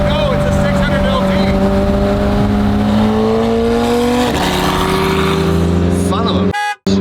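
A McLaren 600LT is held at full throttle but makes little power, its engine note climbing slowly and steadily with a tonal whine, loud and close, while people talk over it before it cuts off abruptly.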